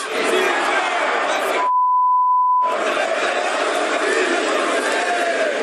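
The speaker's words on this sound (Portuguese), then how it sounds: "Reagiu ruidosamente, com vaias, xingamentos" Loud Brazilian football crowd of Flamengo supporters booing and jeering coach Tite as he enters the field, a dense roar that is cut for about a second by a steady electronic bleep before resuming.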